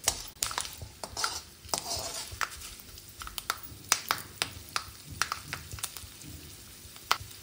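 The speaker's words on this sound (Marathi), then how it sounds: "त्यानंतर आपण त्यात शेंगदाणे घालतो आहोत कच्चे, आणि हे थोडे भाजून घेणार।" Raw peanuts roasting and stirred in a pan over low heat, with curry leaves, while making a ragi puffed-rice chivda; repeated light scraping and rattling clicks come in an irregular rhythm, close and moderately quiet, with no talking.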